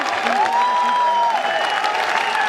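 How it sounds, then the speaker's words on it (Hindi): Applause fills a corporate wellness event hall as the company CEO is welcomed, a steady crowd clapping near and loud, with a tonal whistle or music line running over it throughout. "ये तालियों की गड़गड़ाहट"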